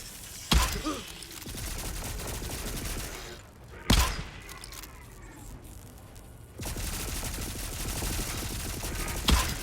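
Rapid gatling gun fire in the Volcanoids game, loud continuous bursts broken by a few heavy thumps, with brief pauses between volleys.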